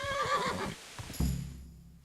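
Horse in the Kingdom Come: Deliverance video game, neighing in a loud, wavering whinny, followed by a snort and thudding movement that trail off into quiet.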